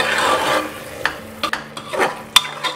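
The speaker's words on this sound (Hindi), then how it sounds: "मिक्स कर लेंगे" Peeled water chestnuts are stirred in a pan: a soft sizzle first, then a series of distinct scraping and clacking spoon strokes against the metal at irregular intervals, close and alone.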